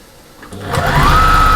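A sewing machine stitches the folds of a fabric storage caddy to form pockets, its motor whine rising in pitch as it speeds up and then holding a steady, close, loud hum.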